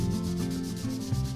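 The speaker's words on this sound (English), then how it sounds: "I'm just gonna sand them so it's a little bit smoother and looks a little bit better" Steady rubbing sandpaper strokes on wooden bow staves of hickory and osage, continuous and close, with a faint shifting rhythm and no voices.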